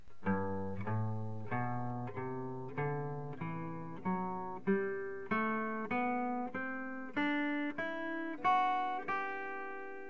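A guitar plays a rising major scale, one plucked note at a time in an even, unhurried rhythm, each note ringing clearly.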